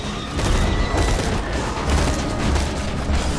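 Dense, continuous gunfire rattles in Borderlands 2, a loud, steady barrage of overlapping shots with faint thumps and no talk.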